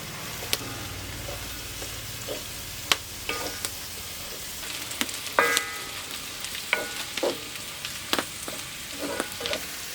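Chopped onion sizzles with bitter gourd in a hot pan for Kerala pavakka theeyal. A loud, continuous frying hiss runs throughout, broken by scattered clicks and scrapes from stirring.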